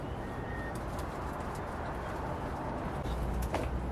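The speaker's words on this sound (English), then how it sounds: "the little bird up here in her nest" A bird nesting inside a greenhouse, soft low cooing like a pigeon or dove, heard faintly through a dense, steady noisy background with a few brief chirps.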